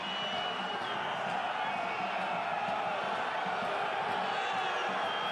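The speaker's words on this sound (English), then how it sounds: "The crowd aren't happy." A stadium crowd at a Pro D2 rugby match between Provence and Grenoble, a steady, dense roar of many voices grumbling and reacting unhappily, loud and continuous throughout.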